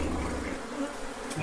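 Bees buzz in a dense, steady drone inside a ceiling cavity, a sustained close swarm hum that stays loud throughout with no voices.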